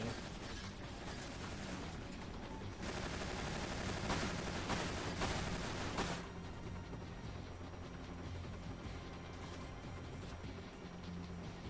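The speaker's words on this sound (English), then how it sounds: "Slowly climb this ladder while being shot at by a machine gun." Machine gun fire in a video game, a dense sustained rattle of rapid shots lasting several seconds, loud and continuous, then easing into quieter background gunfire and ambience.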